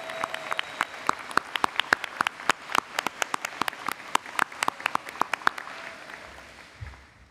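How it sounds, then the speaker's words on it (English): Applause for graduates at a Niagara College spring convocation ceremony, with many hands clapping in a crisp, scattered rhythm that thins out and fades toward the end. "Let's do another round of applause for all our graduates"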